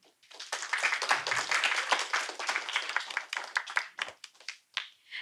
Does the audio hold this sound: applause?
yes